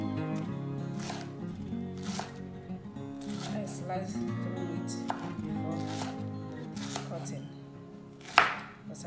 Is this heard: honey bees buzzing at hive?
no